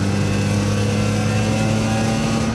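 A BMW E46 M3 CSL replica with a 350 bhp engine drones loud and steady from inside the cabin, a sustained mid-pitched engine tone holding under load with no voices.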